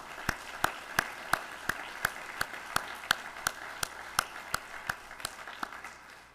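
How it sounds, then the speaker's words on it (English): Evenly spaced, crisp claps at a steady pace, fairly faint and fading slightly, as an audience applauds families and cadets at a college ROTC commissioning ceremony. "Please join me in a round of applause for these families and these cadets."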